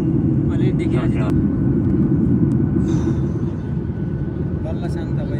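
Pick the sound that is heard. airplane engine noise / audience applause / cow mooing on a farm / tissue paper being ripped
airplane engine noise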